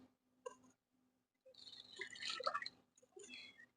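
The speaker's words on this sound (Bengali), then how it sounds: "কড়াতে দেবো পানি" Water is poured into a wok set on a lit stove, coming in short, faint splashy bursts with a longer trickling pour in the middle and quiet gaps between.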